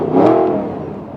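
An Audi R8 with a manual gearbox revs its engine with the exhaust flaps open, one loud rising and falling rev that swells quickly and then eases off, with no talking over it.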